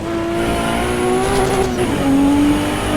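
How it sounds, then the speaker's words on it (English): Race car engine in Assetto Corsa Evo held at high revs against the limiter, a loud continuous whine with rising and falling pitch, alone with no talk. "I'm over-revving on purpose, I just want to hear that sound."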